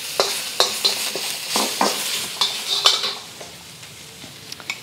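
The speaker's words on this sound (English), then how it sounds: "I added about a tablespoon of oil, vegetable oil, and just adding the ginger and the garlic in here just to cook through" Ginger and garlic cooking in about a tablespoon of vegetable oil in a pan, a spoon clattering and scraping in several quick strokes over a soft sizzle that settles toward the end.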